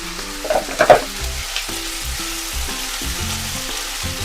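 Green, red and yellow bell peppers stir-frying over high heat for veg jalfrezi, a steady close sizzle with a few sharp spatula knocks and scrapes early on, then continuous crackling.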